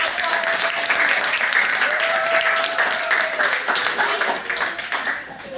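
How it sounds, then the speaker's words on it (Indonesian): Classroom applause for a student group after an Indonesian science lesson, a steady wash of children's clapping with voices and shouts mixed in, fading slightly near the end. "Sekali lagi tepuk tangan buat mereka."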